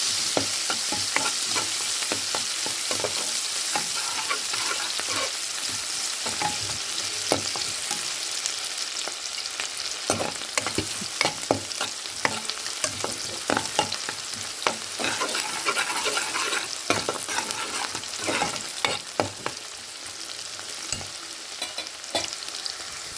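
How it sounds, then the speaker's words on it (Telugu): Onion pieces fry steadily in a hot pan with oil, a constant crackling sizzle broken by frequent scraping stirs, close and continuous with no voices. "ఉల్లిపాయ ముక్కలు, కొంచెం దోరగా వచ్చేటట్టు వేసుకోండి."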